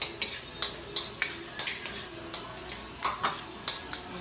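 Garlic and onion frying in oil, a soft continuous sizzle punctuated by regular metallic clicks and scrapes of a utensil stirring in the pan, close and moderately quiet.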